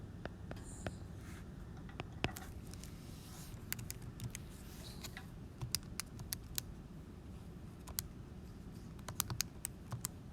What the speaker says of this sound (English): So I'm typing this in right now.